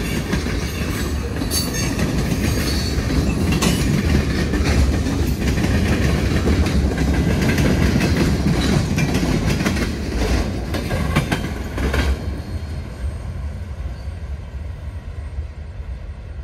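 A CSX M426 freight train in southern Maine rumbles past loudly and steadily, its rail cars clattering with clickety-clack joint beats and squealing briefly before the roar begins to fade toward the end.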